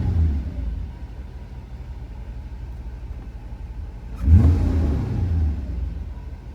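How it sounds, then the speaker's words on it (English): A 1991 Mercedes 500SL engine idles with an intermittent high-idle fault, giving a steady low rumble nearby, then a brief swell in engine note near the end before settling back. "I think I'll just let it sit here and idle."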